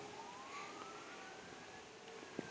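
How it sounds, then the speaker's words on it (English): Fire truck sirens wail through a city street at a distance, a faint rising and falling tone over steady traffic and wind noise, with no talking. "If you guys hear that siren noise, that's fire trucks."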